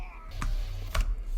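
Two crisp clicks on a Razer Huntsman V2 TKO keyboard, faint and spaced about half a second apart over a quiet low hum.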